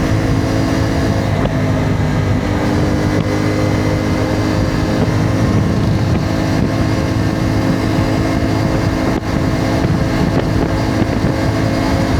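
Motorcycle running on normal rather than high-octane petrol, riding through a city, its engine a steady loud drone mixed with heavy wind rush throughout, no voices.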